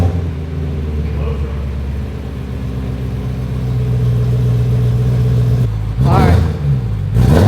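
A BMW E90 M3 engine fitted with a full titanium exhaust, valves closed, runs as a steady deep idle rumble close by, with a short rev burst near the end and a brief spoken word over it.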